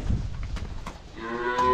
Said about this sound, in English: Open up the gate, let the cows come in for milking.